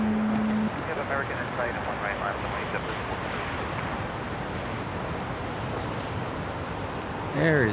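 A JetBlue airliner arrives at Las Vegas airport, a broad distant jet roar that holds steady for several seconds while people talk nearby.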